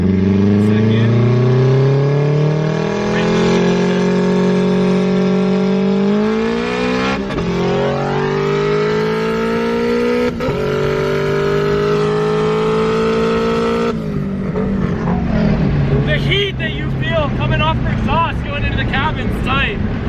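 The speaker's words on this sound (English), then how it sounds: "Dude, he bangs gears like a champ in this thing." An all-wheel-drive K-Series car revs hard, pitch climbing through each gear before abrupt shifts drop it and the climb starts again, loud and close, with voices talking inside now and then.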